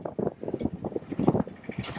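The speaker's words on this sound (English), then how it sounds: "it's very windy today" Gusty wind buffets the microphone in uneven bursts, low rumbling and fairly close, with no other clear sounds.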